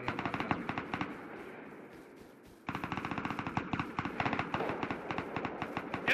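Automatic gunfire in the survival game Rust, long rapid bursts of close shots that stop briefly and then resume, loud and steady with no talk over them.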